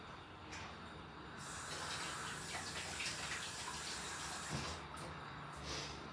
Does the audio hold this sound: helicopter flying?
no